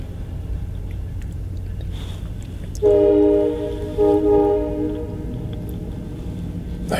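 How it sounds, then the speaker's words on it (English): A train sounds its horn in one sustained, steady chord lasting about two seconds with a brief dip, heard at moderate distance over a low rumbling background. "He's honking his horn at someone"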